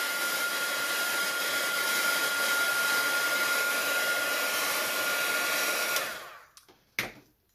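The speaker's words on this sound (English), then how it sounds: "So that was a nice little heat gun I'm using, not real expensive." A small, inexpensive craft heat gun blows steadily on an alcohol ink sky painting, a loud continuous whooshing hum for about six seconds before it cuts off, followed by a couple of brief knocks.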